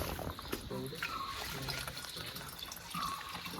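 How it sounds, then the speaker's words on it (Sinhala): A clear mountain stream on Great Western mountain in Sri Lanka flows with a steady close babble and trickle, with a few faint higher chirps above the water. "දොළ පාර නම් මරු ඇත්තට මාර පිරිසිදු වතුර තියෙන මෙතන."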